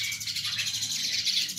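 Crested mynas, kept as caged birds, chirping in a continuous chatter of high, bright calls and tweets, moderately close with no talk over them.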